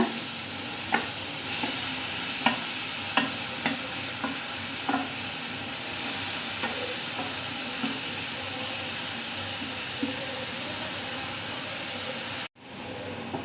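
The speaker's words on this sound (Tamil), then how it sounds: "இதே பேனில் நம்ம துருவி வச்சுருக்க கேரட்டை சேர்த்துக்கோங்க." Grated carrot frying in ghee in a pan for carrot halwa, a steady close hiss of sizzling with periodic light clicks and taps of a stirring utensil, ending abruptly.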